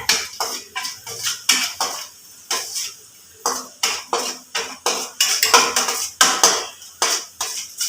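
A metal spoon scrapes and knocks against a pan of garlic frying in oil over low heat, in quick repeated strokes, a steady stirring rhythm with clinks and faint sizzling underneath.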